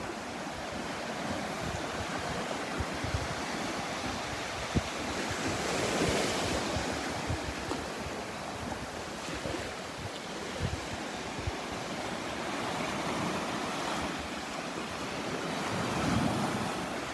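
Ocean surf rolls steadily onto Vanderbilt Beach on a Sunday morning, a continuous wash of breaking waves mixed with gusts of wind buffeting the microphone, with no voices.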